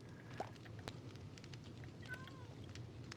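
A cat meows in the Minecraft video game, two or three faint, short calls rising out of a steady low background hum.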